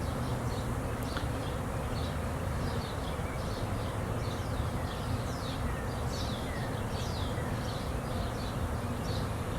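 A honey bee swarm buzzes steadily around a swarm trap outdoors, a dense continuous hum with overlapping individual bees zipping past close by, no voices.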